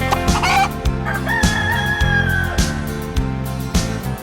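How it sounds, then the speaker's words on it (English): A rooster crows and a hen clucks over a steady rhythmic musical backing, the calls loud and close in a short sung sequence about farm sounds. "Chicken lays her eggs and squawks."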